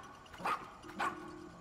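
Otchin, the dog from the video game Pikmin 4, gives two short, bright barks about half a second apart, fairly close and clear over a quiet game background.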